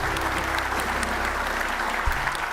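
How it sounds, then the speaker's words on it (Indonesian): Studio audience applause on an Indonesian television show, a loud continuous wash of clapping across the whole stretch, with a low rumble underneath and no speech. "Tepuk tangan"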